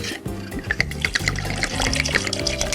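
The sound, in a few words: water being poured into a drink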